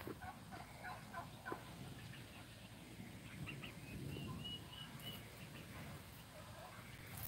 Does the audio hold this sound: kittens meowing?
no